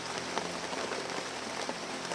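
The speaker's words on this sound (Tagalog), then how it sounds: "umulan na naman" Steady rain falls on a surface as a continuous, even hiss of dense droplets with no pauses, heard on its own with no talking, at a fairly close distance.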